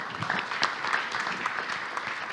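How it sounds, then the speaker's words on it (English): Audience applause at a Mekong regional water, energy and climate policy forum, a short burst of steady clapping from a crowd heard at moderate distance with no talk over it. "a big round of applause to everyone"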